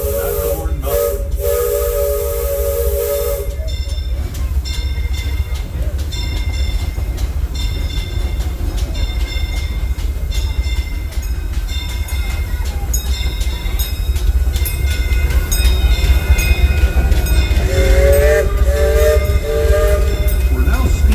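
A Disneyland Railroad steam train, the Fred Gurley locomotive, chugs steadily with rhythmic puffing and hiss, opening with a loud whistle blast and a second whistle near the end.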